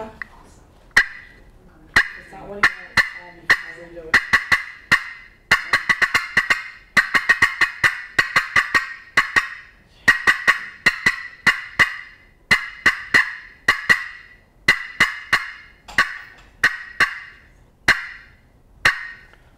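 Turkey call worked by a champion caller, imitating an excited hen's cutting: sharp, loud, rapid clucks in irregular bursts of two and three notes, repeated steadily throughout with no talking.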